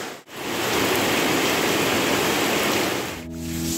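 Heavy rain pours down in a steady, dense hiss, close and loud, with no voices.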